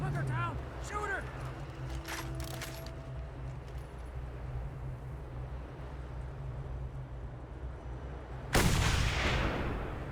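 Gunfire in the Mad Max video game: a few sharp shots early on, then one loud blast near the end, over a constant low engine rumble with game voices speaking.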